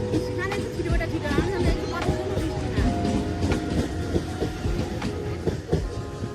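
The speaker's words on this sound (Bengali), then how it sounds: "দাঁড়া ট্রেনটা চলে যাক না" A train rolls past a busy station platform in the rain, its wheels clattering steadily over the rails for the whole stretch, loud and close, with crowd babble and voices running underneath.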